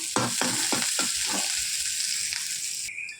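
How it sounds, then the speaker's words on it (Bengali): Chopped onions and green chilli hit hot oil for masala capsicum, with a few quick stirring scrapes at the start before settling into a close, steady sizzle. "তেল গরম হয়ে গেছে, এখন দেবো আমি পেঁয়াজ"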